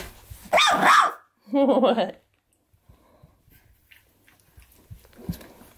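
A Boxer dog barks in two loud, sharp bursts close by, followed by quieter rustling and a voice talking to it.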